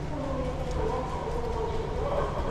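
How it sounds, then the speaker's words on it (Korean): Steady rumble and rattle of an Incheon Line 1 subway train in motion, heard from inside a carriage as a continuous, fairly loud drone with no clear breaks. "결국 지하철로 피신"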